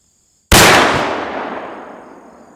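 A muzzleloader is fired outdoors at an apple set on a post, making a single loud, sharp report after a moment of quiet, followed by a long fading rumble.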